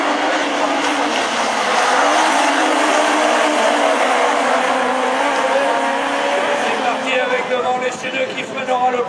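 Super 1600 rallycross cars race in the final at Châteauroux, engines roaring loud and steady throughout with a dense broadband drone, under commentary-like crowd noise, with a slight dip near the end.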